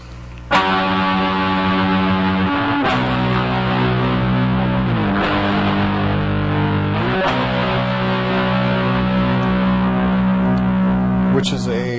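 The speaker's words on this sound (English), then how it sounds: "there's also a guitar that comes in" A heavy distorted electric guitar plays a part from a song, with thick sustained chords shifting every couple of seconds, loud, full and played alone.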